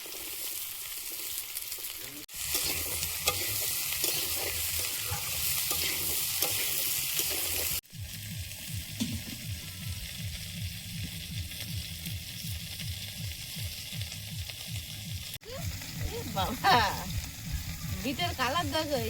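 Beans going into a wok where carrots and kohlrabi are already frying, giving a loud, steady sizzle broken by stirring scrapes and a few abrupt pauses, with a voice talking over it.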